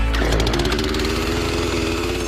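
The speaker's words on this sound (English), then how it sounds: "you're Liz Ennis in Poughkeepsie, New York, you can fire up your trusty chainsaw." A chainsaw roars to life in a backyard in Poughkeepsie, New York, catching with a sharp burst and then running at a loud, close, rapidly pulsing rev with no voices over it.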